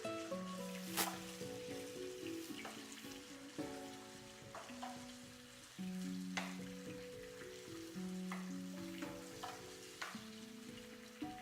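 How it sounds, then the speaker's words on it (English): Onions fry in a pan for a Burmese curry, giving a steady close sizzle with occasional stirring clicks and scrapes, and soft background music underneath. "I'm gonna fry the onions until it's brown."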